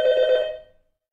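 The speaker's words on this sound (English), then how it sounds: "The bell is ringing." A single bell strike rings out clearly on its own, a bright tone with shimmering overtones that decays away within about a second and leaves silence.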